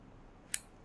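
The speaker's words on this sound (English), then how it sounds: "Now with the scissors," A single crisp snip of scissors cutting through a cotton wick for a single-coil RDA rebuild, close and brief against quiet room tone.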